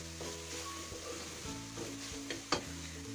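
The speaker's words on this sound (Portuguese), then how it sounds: "Aqui eu vou deixando o alho dar uma fritadinha." Garlic cloves fry in a pan with a steady, soft sizzle, a few faint clinks of a utensil stirring partway through and one sharper tap near the end, no voices.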